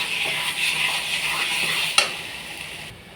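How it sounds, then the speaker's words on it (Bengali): Taro greens with chopped hilsa fish head sizzle in a pan as a utensil stirs them, steady frying hiss with a sharp clink of the spoon against the pan, no talk. "দিয়ে এবার নাড়াচাড়া করবো, ভালো করে নাড়াচাড়া করে"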